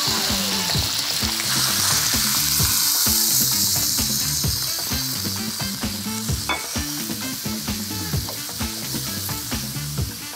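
Pork mince frying in oil in a wok for spicy mapo tofu, a loud crackling sizzle with a busy run of clanking, scraping stirs that grow more spaced toward the end, no voices.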